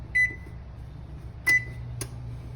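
An oven set to preheat to 425 degrees gives three short, clear electronic beeps spread over a couple of seconds, each standing alone above a low, steady background hum.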